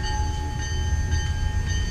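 A train rolls past at a distance, a steady low rumble of rail cars with faint, sustained whistle-like tones above it, heard from inside a garage being converted to living space, with no voices.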